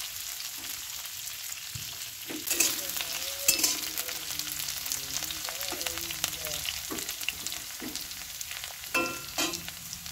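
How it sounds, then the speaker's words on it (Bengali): Potatoes fry in a wok for a simple ridge gourd dish, a steady close sizzle broken by repeated scraping stirs of a spatula against the metal. "খুঁটি দিয়ে নেড়ে দিচ্ছি যাতে সঠিকটা আলুটা ভাজা হয়।"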